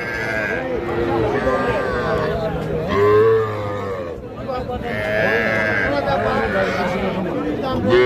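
Calves moo and bleat loudly in long, wavering calls amid a crowded cattle market in Raniganj, with people talking and chattering nearby.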